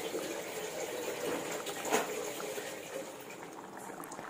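Boal fish curry (jhol) with fish pieces simmering in a pot, a continuous close bubbling and hissing boil that stays steady throughout, with no talking.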